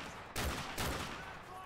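Akimbo mini Uzis fired in Call of Duty: Modern Warfare 2, two short, dense bursts of rapid gunfire in quick succession, loud and close.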